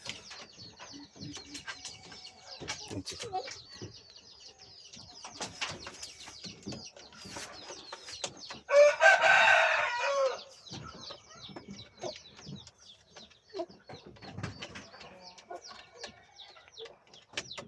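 A pair of pheasants calling, scattered clucks and short calls close by, with a louder burst of raspy calling in the middle and quiet gaps between.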